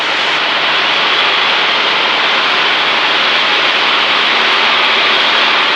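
Engine drone of a Piper Super Cub in flight during a demo lesson, a loud, continuous, steady roar close to the listener with no change in pitch and no talk over it.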